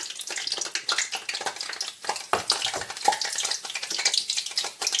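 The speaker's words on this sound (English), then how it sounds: "So I'm going to put another onions in the oil." Onions frying in hot oil for coconut puff puff give a steady close crackling sizzle, with busy popping spatter running the whole time and no voices.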